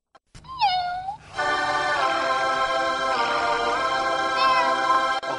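A kitten meows in a film set at Christmas in Manhattan, one clear rising-falling cry at the start, then a bright sustained musical bed with another faint meow near the end.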